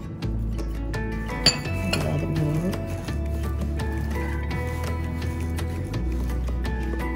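Granulated sugar stirred in a bowl, giving a steady run of light clinks and scraping against the bowl over a low constant hum, with one sharper tap near the start.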